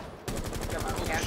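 Shotgun blast in the tactical shooter Rainbow Six Siege, arriving as a sudden loud burst after a quiet start, then a run of rapid repeated gunfire cracks close in front.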